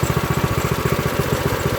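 An Earthquake Victory tiller engine idles up close, a steady fast-pulsing mechanical putter with no talking over it.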